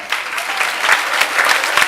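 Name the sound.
audience applause for teachers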